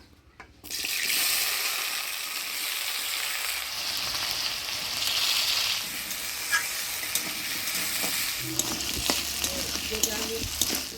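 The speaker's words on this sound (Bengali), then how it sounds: "এবার আলুটা হলুদ লবণ দিয়ে ভাজে নিব" Potatoes fry in hot oil with turmeric and salt in a village kitchen, cooked for a paneer curry served with luchi. A loud, steady sizzle runs throughout, with occasional light clinks and stirring scrapes and no talking.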